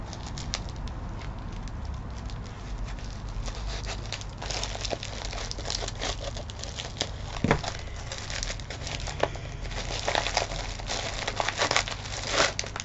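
Packaging paper being cut with large paper scissors and crinkled during an unboxing, a steady close run of rustling and crackling with sharper snips and crunches that build toward the end.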